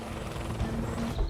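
Helicopter sound effect, a steady low rotor chop and engine drone held at an even loudness throughout with no voices.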